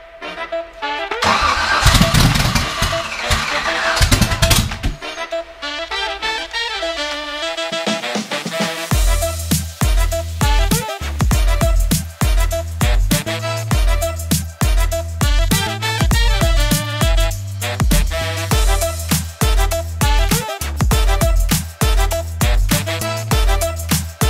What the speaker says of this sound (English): engine's been out of the Nova for 6 years. We're going to try to get it running tonight.